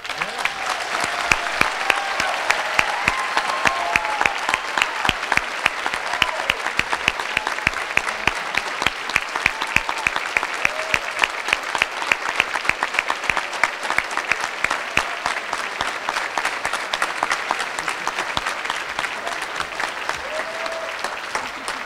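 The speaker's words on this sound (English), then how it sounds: "so that they can hear your resounding applause for their efforts once" A large crowd gives sustained, loud applause for scholarship students at a school district scholars program, a continuous dense wash of clapping that holds steady throughout with no break.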